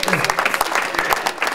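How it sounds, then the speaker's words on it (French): A church congregation at a French-speaking worship service claps for the mothers, a quick burst of scattered, lively applause with voices mixed in. "Applaudissez pour nos mamans."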